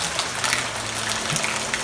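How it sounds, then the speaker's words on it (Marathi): Heavy rain pouring in a Konkan village backyard, a dense steady rush of water close by, brief and without any talk. "पुन्हा जोरात पाऊस आला"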